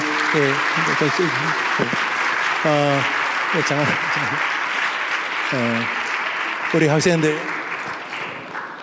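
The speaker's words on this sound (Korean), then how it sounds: "우리 박수하겠습니다. 박수." Church congregation applauding at a Korean church service, steady clapping filling the clip beneath a voice speaking over it at intervals.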